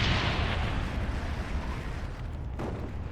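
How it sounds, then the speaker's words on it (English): A napalm airstrike in a first-person shooter video game, a loud roaring explosion rumble that swells at the start and slowly fades over a few seconds. "Friendly napalm strike."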